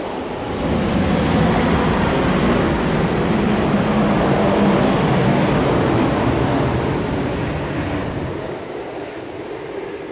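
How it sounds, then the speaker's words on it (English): A plane passes overhead as a broad, loud roar that swells quickly, holds steady for several seconds, then slowly fades. "Another plane."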